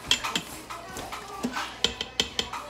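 A spoon stirs tomato sauce in a metal pot, scraping and clinking against the sides in a series of short, close knocks and rattles with quiet pauses between strokes.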